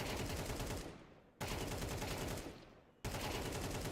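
Burst gunfire in a video game while the player strafes, three loud dense bursts of rapid shots, each fading before the next begins abruptly, close and without talk.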